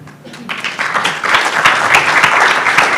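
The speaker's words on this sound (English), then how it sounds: "I think we ought to clap for them." A conference audience applauds a panel at a tobacco taxation event, clapping that starts thin and swells into a full, sustained roomful of applause.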